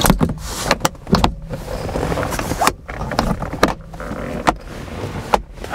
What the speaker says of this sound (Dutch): de automatische bediening van de cabrioletkap, die bij de Z3 gedeeltelijk hydraulisch gaat